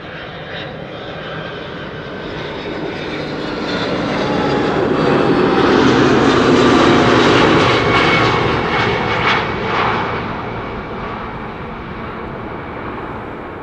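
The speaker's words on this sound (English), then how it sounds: "32-year-old DHL A300 600 first." A 32-year-old DHL Airbus A300-600 cargo jet arrives on runway 06 at Amsterdam Schiphol, its broad engine roar swelling to a loud peak mid-pass with whining tones, then easing off as it moves away. No voices.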